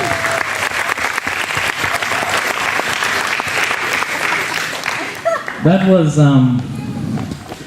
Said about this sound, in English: Well, let's give her a round of applause,